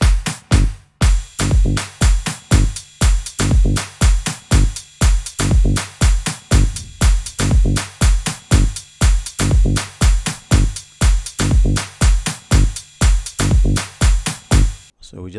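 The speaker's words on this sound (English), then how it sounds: "So I had to add some hi-hats onto this, especially like the rides and some highs." An afro tech house drum loop built in FL Studio with claps, hi-hats and rides thumps loud and steady, repeating its punchy beat pattern for about fifteen seconds with no talking.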